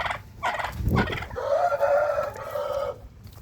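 A rooster crows once near and loud, a long drawn call following a few short clucks, against a quiet farmyard with no talking.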